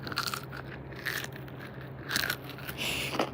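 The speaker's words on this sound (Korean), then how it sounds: "치킨이 와 이거는 바삭하지 않을 수가 없어 봐봐요" Crispy fried chicken crunches in a few close, sharp bites and chews, heard up close and alone with no one talking.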